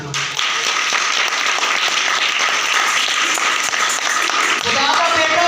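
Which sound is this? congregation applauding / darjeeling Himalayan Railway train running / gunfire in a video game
congregation applauding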